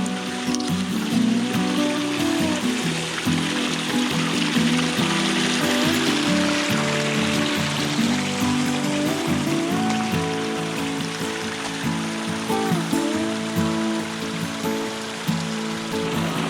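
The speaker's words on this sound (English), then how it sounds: "up to a nice little cascading waterfall" A small creek flowing into a little cascading waterfall gives a steady, dense rush of water that holds at an even level throughout, with no speech.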